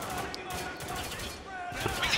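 Gunfire in the third-person shooter Spec Ops: The Line: a steady stream of shots and bursts rolling on without pause, moderately loud, with no voices over it.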